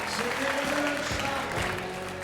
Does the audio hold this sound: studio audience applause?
yes